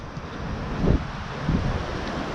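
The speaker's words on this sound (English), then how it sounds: "It's a little windy" Steady wind buffets the microphone with a low, continuous rumble and a couple of stronger gusts.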